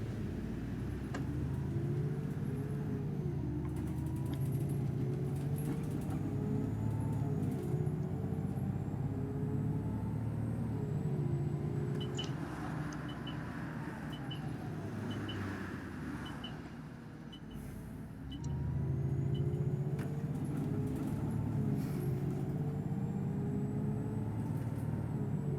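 An Alexander Dennis E400 double-decker bus engine in the OMSI 2 driving simulator drones steadily close up, its revs rising and falling with gear changes, with a brief drop and an air-brake hiss midway.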